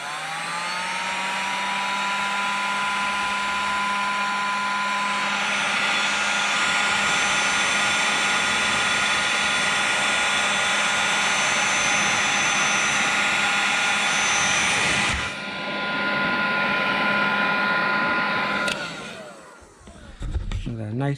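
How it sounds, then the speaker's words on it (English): A heat gun roars loudly and continuously while shrinking heat shrink tubing on wiring for a Porsche 911 997.2 Turbo rear subframe, its steady blowing tone shifting slightly before cutting off near the end. "Now I'm just going to heat shrink the rest of them."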